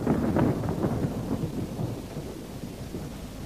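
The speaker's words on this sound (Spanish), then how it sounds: "parece que se desatará una tormenta" Thunder rumbles over steady rain during a thunderstorm in an animated film, loudest at the start and then settling into a low continuous roar with no talk.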